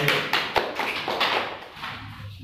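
Classmates clap for group 2 in a classroom, a burst of several sharp, close hand claps at the start that thins into scattered clapping and fades.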